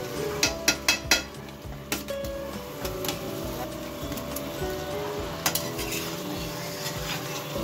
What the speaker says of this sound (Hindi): अब हम इसमें ये आलू ऐड कर रहे हैं।